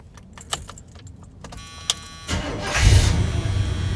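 Keys clink a few times, then a 1981 Chevrolet Silverado with a faulty neutral safety switch cranks briefly and its engine catches, settling into a steady close idle.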